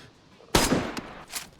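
Gunshots in a multiplayer shooter game, a loud close blast with a short ringing tail, then two fainter single reports a moment apart.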